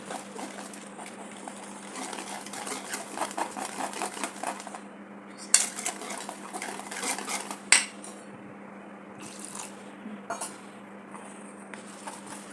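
A utensil clinks and scrapes repeatedly against a bowl as thick gram flour batter for bajji fritters is mixed, a steady busy rhythm of close stirring sounds with a low hum beneath.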